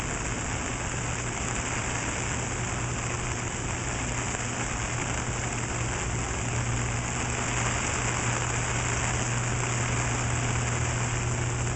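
Rain falls steadily on old and new brick paths in a garden, giving an even, continuous hiss with a low background rumble and no voices.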